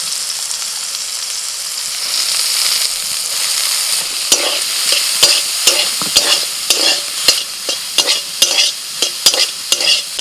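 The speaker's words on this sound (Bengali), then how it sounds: "এখন একটু ভেজে নেব তেলের মধ্যে" Soaked soya chunks fry in oil with a steady, close sizzle, joined in the second half by repeated scraping and clicking as they are stirred in the pan.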